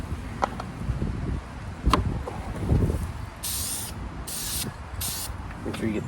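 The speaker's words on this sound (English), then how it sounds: "start spraying over here and move all the way across it" Short hissing bursts of a spray paint can painting plastic car trim, three or four quick sprays separated by brief pauses, with some handling noise and rustling earlier.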